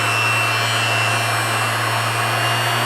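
An InterTool WT-0542 random orbital sander runs at its first speed, giving a steady, loud, unbroken motor whine with a constant hum and no change in pitch or level.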